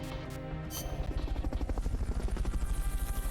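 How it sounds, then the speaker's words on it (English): Hind attack helicopter in Metal Gear Solid: Peace Walker, a steady rhythmic rotor chop that builds from a faint start into a loud, regular thumping throb. "So, analyze the helo."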